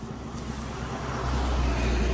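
Fast-moving road traffic rushes past, a dense rumbling roadway noise that grows louder as a vehicle approaches, with no voices.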